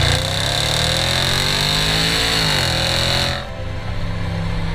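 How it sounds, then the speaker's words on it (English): A Range Rover Sport SVR engine pulls hard under throttle, its loud, close roar climbing in pitch before easing off into a lower, steadier drone. "the tiniest squeeze of the throttle tells you that there is some fairly awesome power"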